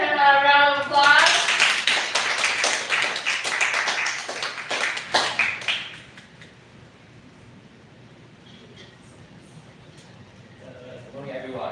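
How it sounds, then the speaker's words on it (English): Audience applause at a community bone marrow donation talk, a dense burst of clapping lasting about six seconds before thinning out, with speech starting near the end. "Let's give him a round of applause."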